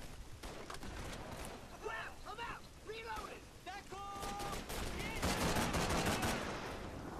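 Gunfire rattles in Call of Duty 3, with sustained distant bursts and shots building louder toward the end, mixed with shouted voices in the background.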